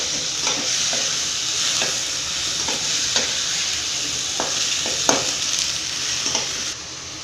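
Tomatoes frying in a pan for ridge gourd chutney, a loud close sizzle with regular scraping and tapping strokes of a spoon stirring throughout.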